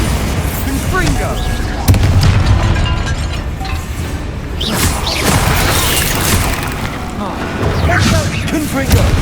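Explosive Confringo and Bombarda spells cast in the Hogwarts Legacy video game, producing repeated booms and blasts with whooshing magical bursts in a busy combat mix, while a voice shouts over the action.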